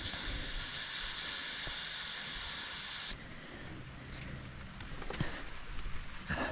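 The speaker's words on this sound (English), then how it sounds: "Leaky valve, something like that." Steady broadband hiss of a leaky valve, loud and continuous for about three seconds before cutting off abruptly, leaving quieter background noise with faint scattered sounds.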